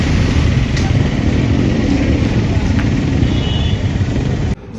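Motorcycles race around a race track, heard as a continuous, fairly loud engine drone with a steady texture that cuts off abruptly near the end.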